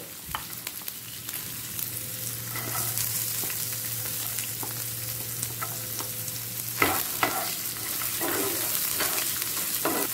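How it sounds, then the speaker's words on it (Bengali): Chopped beans, green peas and carrots frying in a pan for sabudana upma, with a continuous sizzle and a low steady hum, interrupted by several scraping stirs of a spatula near the end. "এক মিনিট ভেজে নেব।"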